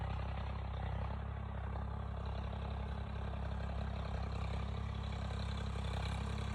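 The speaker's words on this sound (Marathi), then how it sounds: "बघा तुम्हाला आता ट्रॅक्टरचा आवाज येत असेल आणि ट्रॅक्टर जवळ आता या फ्रेममध्ये येईल" A tractor engine runs steadily while ploughing a village field, a continuous low rumble with faint clatter at moderate distance and no voices.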